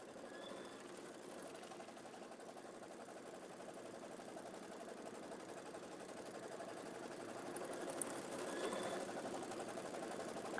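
Kimberbell embroidery machine tacking down pink fabric with white thread, a steady, fast mechanical stitching whir that runs evenly and close throughout, slightly louder toward the end, with no talk.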